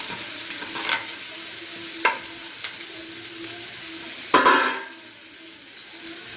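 Sliced onions hiss and sizzle in hot oil in a kadai, a soft steady fry broken by a few sharp stirring scrapes and one louder burst, close by with no voices.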